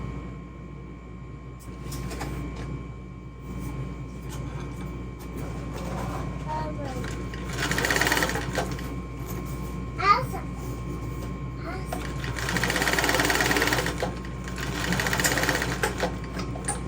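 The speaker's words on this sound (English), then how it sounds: "So I'm going to baste my bottom panel into place." A 1341 sewing machine bastes a bag's bottom panel in place, running in several short mechanical bursts of rapid stitching between pauses, with people talking quietly in the background.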